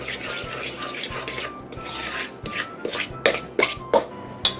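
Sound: mixing egg yolk into cookie dough

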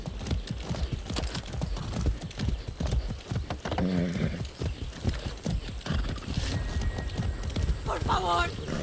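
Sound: horse galloping hooves in video game Far Cry 6

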